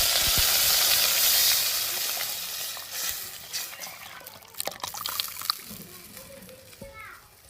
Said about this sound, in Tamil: நம்ம சட்னி அரைச்சிட்டு வந்தது தாளிச்சதோட சேர்த்துக்கிறோம்.